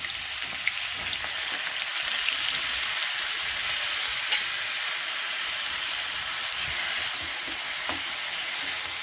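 Chopped onions sizzle steadily in hot oil for a bitter gourd stir-fry, a dense close crackle with a few small pops and no talking.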